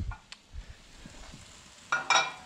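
Scallops sautéing in olive oil in a pan give a steady low sizzle, and a louder crackling burst comes near the end as they are tossed and moved around.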